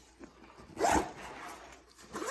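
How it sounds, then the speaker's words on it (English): A zipper is drawn closed on a folding, breathable pet carrier backpack, one quick close-up rasp standing out against quiet surroundings. "We're just going to pull the zipper closed."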